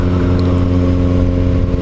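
Four-cylinder motorcycle engine, a Kawasaki Z-series bike, idling and revving with a steady, even multi-cylinder drone, close and loud throughout, no speech.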